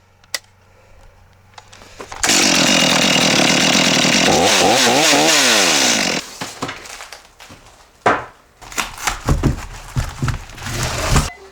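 A chainsaw started without choke roars loud and close for about four seconds, revving with a rising and falling whine, then cuts off, leaving scattered clunks and handling noises in a cabin setting.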